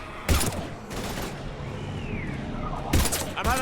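Gunfire bursts in the video game Mass Effect 3, with a few loud volleys in a combat scene: one near the start, one around the middle and a pair near the end over steady background ambience.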